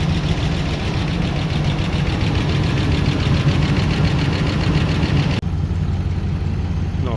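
A warmed-up Dodge Ram 5.7 Hemi idles steadily under repair, a close, constant low rumble with light rhythmic clatter, briefly interrupted by a sharp dip before continuing more muffled, with no one talking.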